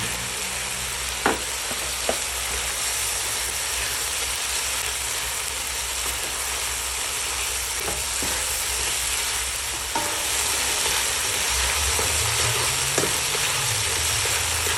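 Ground meat frying with crushed tomatoes in a pan for ginisang sayote, a loud, continuous, close sizzle with a few scattered stirring clicks and a low rumble rising near the end.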